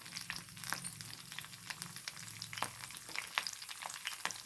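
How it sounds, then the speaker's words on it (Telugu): Dried red chillies and curry leaves fry in hot oil with a quiet, continuous sizzle broken by sharp little pops and crackles throughout, heard close with no voices. "4-5 ఎండుమిరపకాయలు వేసుకుంటే, ఎండుమిరపకాయలు వేసుకుంటే టేస్ట్ బాగుంటుంది. కొంచెం కరివేపాకు"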